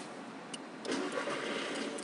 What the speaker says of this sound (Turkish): Frene ve devriyaja bastıktan sonra start stop tuşuna bir kere basma